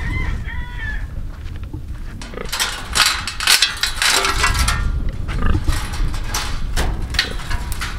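Chickens around a chicken tractor, a rooster's short crow-like call early, then clucking mixed with clanging and rustling handling noises, close and fairly loud.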